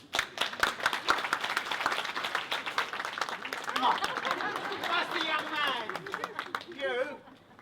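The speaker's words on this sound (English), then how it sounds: "Give him a round of applause." A theatre audience claps in a dense, steady round of applause with voices chattering underneath; toward the end the clapping thins and a voice speaks.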